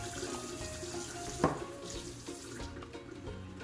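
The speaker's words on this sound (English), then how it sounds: "Now I'm adding half more cup of water because the beef is still not done." Water poured from a cup into a pan of simmering beef with tomato, a steady splashing trickle that runs for a few seconds at close range, fairly quiet, with no voices.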